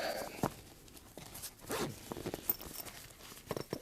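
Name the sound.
zipper on a canvas Sega Game Gear carry case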